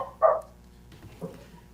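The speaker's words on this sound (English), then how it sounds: "Ann has a new puppy, Boomer." A puppy gives one short, sharp bark nearby, then a softer second yip about a second later, against a quiet indoor hum.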